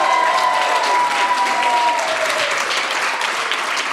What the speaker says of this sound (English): can you now keep the applause going for Mitch Owens and Jack Sinclair?